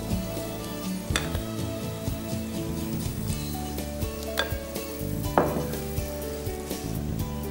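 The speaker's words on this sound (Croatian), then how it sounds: "lagano bacamo špecle u kipuću vodu" Spaetzle dough is pressed through a spaetzle maker slid back and forth on a pot of boiling water, making repeated metallic scrapes and clacks over a continuous bubbling hiss, heard up close without speech.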